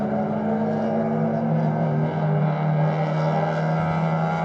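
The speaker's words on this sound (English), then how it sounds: "That's the Kino Motorsport car." The Kino Motorsport race car runs at a steady, sustained engine drone during a Malaysia Championship Series race, heard at moderate distance as a constant tonal hum without a sharp pass-by peak.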